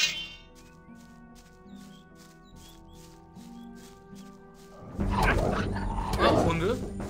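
Orc dogs in the Gothic video game bark and growl, first faint and sparse, then a louder burst of snarling and barking near the end.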